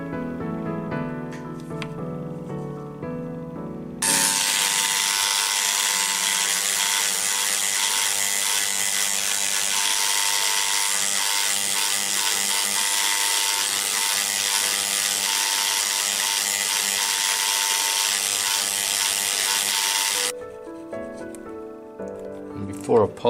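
A jeweller presses down the metal bars of a five stone crossbar ring, heard as a long, loud, steady grinding rasp with brief clicks and scraping before and after.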